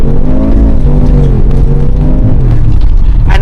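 A Mercedes-AMG G63 with its M177 4-liter twin-turbo V8 drives with a loud, deep, steady engine drone whose pitch rises and falls slightly as it pulls, heard close up.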